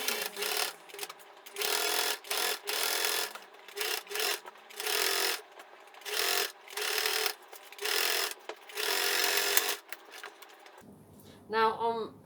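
A sewing machine stitches fabric in a string of short, loud bursts with brief pauses between them, close by; a voice speaks near the end.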